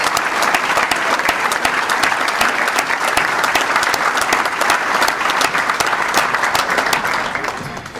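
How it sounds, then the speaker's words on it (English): Sustained applause from a seated crowd at a police department awards luncheon, steady dense clapping for the full stretch with no talk on top, easing slightly at the very end. "Round of applause, please."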